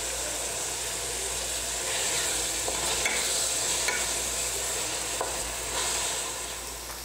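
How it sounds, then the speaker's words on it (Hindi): Onion and green chili sautéing in a pan until lightly browned, a continuous close sizzle with occasional stirring scrapes and clinks, no voices. "प्याज और हरी मिर्च को हम 3 से 4 मिनट तक भूनेंगे, कलर चेंज होने तक ब्राउन करेंगे"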